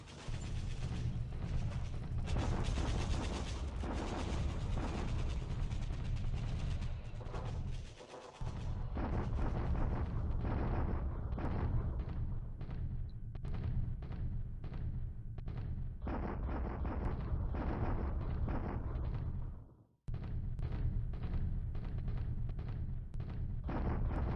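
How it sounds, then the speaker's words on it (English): Artillery bombardment in a WWII strategy video game set in the Pacific war of 1942, a dense, continuous barrage of booms and rumbling blasts with two brief drops in sound, no voices. "Come on, enough with the arty."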